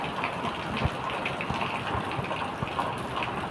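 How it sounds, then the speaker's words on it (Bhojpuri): Heavy monsoon downpour in Delhi, a dense continuous hiss of rain with occasional splashing gushes and drips, fairly close and steady, no talking over it. "मूसलाधार बारिश बावे"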